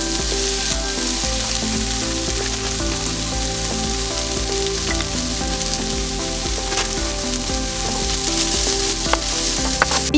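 Honey glazed chicken sizzles steadily in a pan as sesame seeds are stirred in, a dense continuous frying hiss with faint scraping, close and loud throughout with no talking.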